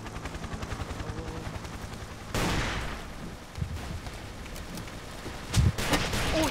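Pistol gunshots in Ace of Spades, a few sharp cracks standing out amid a busy, noisy game mix, with one strong burst near the start of the middle section and another near the end.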